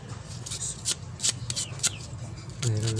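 Sandpaper scratching across the electrode of a spark plug from a Mitsubishi Mirage G4, heard as a series of short, close, dry rasping strokes in an uneven rhythm.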